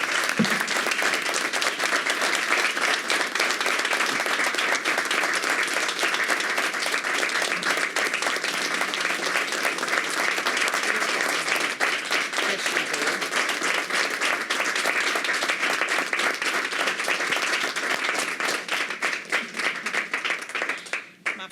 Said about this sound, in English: let us all give you a round of applause and heartfelt love